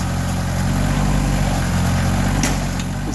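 A Woodmaxx WM-8600 backhoe engine runs steadily at idle outdoors, a constant loud droning hum with no speech.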